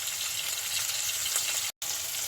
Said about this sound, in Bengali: আমি তেল দিয়েছি তেলটাও ভালোভাবে গরম হয়েছে তারপরে আমি মাছটা দিয়েছি